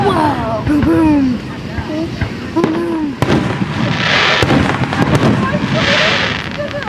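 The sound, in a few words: fireworks exploding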